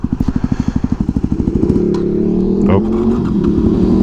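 A 2009 Yamaha WR250X 250cc motorcycle engine chugs in slow, even pulses that lug and break up before a brief rough surge, ending in a steady drone; a short spoken exclamation occurs.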